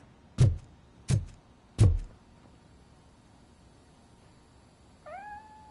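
A cat in the video game Robocop Rogue City meows three times in quick, evenly spaced calls, then a softer, rising chirp-like meow follows after a few seconds of quiet, all heard close and clear with no talking.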